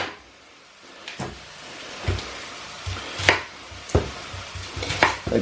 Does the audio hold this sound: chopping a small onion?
yes